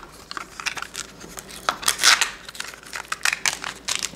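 Crinkly plastic wrapper of a Mini Brands toy capsule being peeled open, giving irregular crackling and tearing bursts close to the microphone, loudest midway, with no talking.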